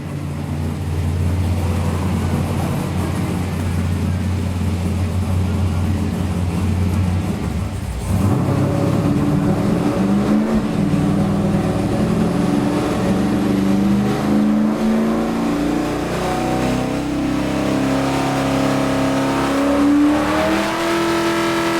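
A nitrous-equipped car engine runs on a naturally aspirated pull with the nitrous off, idling loudly before revving and climbing steadily in pitch, heard close and alone.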